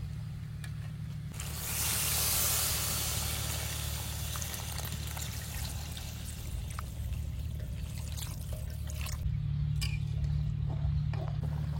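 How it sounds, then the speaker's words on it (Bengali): Water poured into a pan of braised meat. A steady rushing pour becomes a loud hissing splash, and a constant low hum runs beneath it, close up and without speech. "মাংস কষানো হয়ে গেছে, এবার জল দিয়ে দেবো।"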